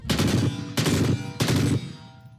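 A 5.56 rifle with a 3-round burst mechanism fires three loud, close bursts in quick succession, each burst a tight cluster of shots separated by short pauses, with no talking.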